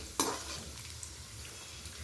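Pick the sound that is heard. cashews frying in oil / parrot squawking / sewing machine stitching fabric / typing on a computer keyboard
cashews frying in oil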